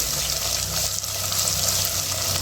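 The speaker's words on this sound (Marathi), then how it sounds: "आपण बघू शकता काढले चांगले फ्राय होत आहेत" Masala-stuffed bitter gourds frying uncovered in a pan, a steady close hiss and crackle of hot oil continuing without pause.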